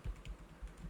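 Soft keystrokes tapped on a computer keyboard while entering a folder name in Windows 11, a short irregular run of about five quiet clicks up close with no talking.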